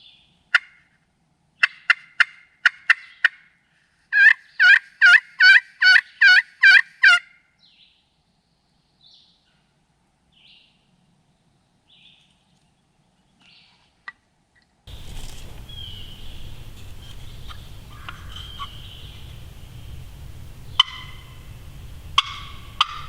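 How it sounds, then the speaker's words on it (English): Wild turkeys gobble in repeated rattling bursts in Alabama woods near a creek, several in quick succession, then fainter distant calls over a steady rushing background. "There's turkeys gobbling everywhere."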